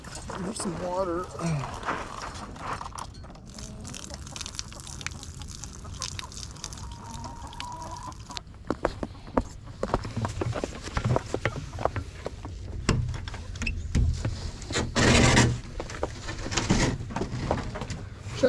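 Chickens coo and cluck softly in their coop, brief scattered calls close by, with someone talking over them and footsteps and rustling around.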